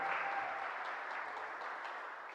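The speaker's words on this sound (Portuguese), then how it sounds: "Um aplauso para ele," Light applause from a small audience, steady clapping that fades slightly toward the end, somewhat distant and quiet.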